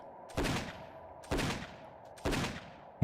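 Three loud gunshots ring out alone, spaced about a second apart, each a sharp crack with a short fading tail.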